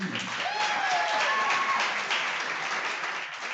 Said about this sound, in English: Let's give another applause to Megan Blagg,